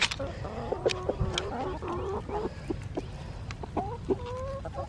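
Farm chickens cluck and squawk in repeated bursts close by, with a rooster-like call among them, over steady outdoor background noise as light rain starts; no one speaks.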